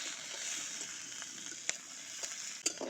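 Chopped onion and green chilies fry quietly in a pan, a soft steady hiss broken by a few sharp scrapes and taps of the stirring spoon.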